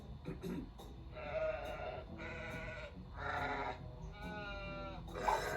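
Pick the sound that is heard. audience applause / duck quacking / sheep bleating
sheep bleating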